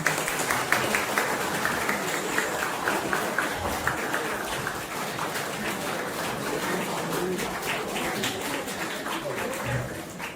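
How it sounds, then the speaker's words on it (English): An audience gives a round of applause for a student at a school event, the clapping mixed with cooing birds and a murmur of background voices. "Huge round of applause for Parth."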